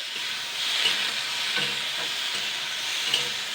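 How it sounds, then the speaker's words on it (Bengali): Vegetables sizzle steadily as they are stir-fried in a pan, a close, continuous frying hiss broken by light scraping and stirring sounds, with no talking. "এবার আমি দুই মিনিট ধরে নাড়াচাড়া করে নেব"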